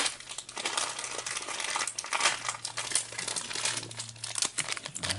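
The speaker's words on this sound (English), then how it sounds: "let's rip into this pack" A Harry Potter mystery wand blind bag pack is ripped open with steady, close crinkling and tearing of the plastic wrapper for several seconds, with no talking.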